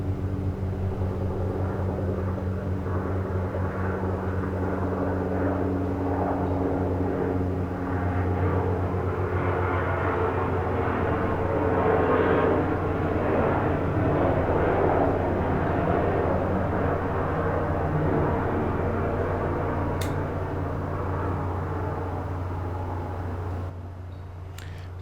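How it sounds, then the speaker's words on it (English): Helicopter flying over a campus, a steady droning rotor-and-engine rumble that swells slightly midway and then eases off near the end, sustained and fairly loud with no talking. "Why is there a helicopter flying above my campus?"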